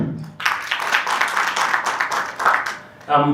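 Clapping from an audience at a public inquiry session in Baringo County forms a dense, even wash of hands for about two and a half seconds, then a voice begins speaking as it fades.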